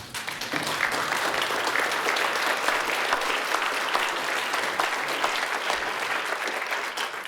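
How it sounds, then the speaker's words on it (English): A conference audience at a trade governance talk rises in a standing ovation, sustained dense applause filling the room steadily and loudly for the full stretch without any talking over it. "If you are, stand up and clap."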